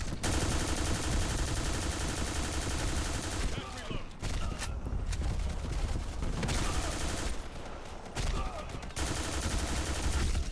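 Sustained automatic gunfire from an emptied magazine in the online shooter Black Squad, loud and dense bursts with brief gaps, under continuous game music and effects.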